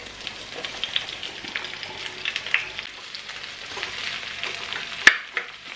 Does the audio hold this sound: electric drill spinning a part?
no